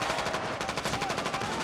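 Rapid, dense movie gunfire rattles without pause through a mess hall scene where rebels burst in on people seated at tables, with bursts layered over a busy, constant roar and no clear gaps.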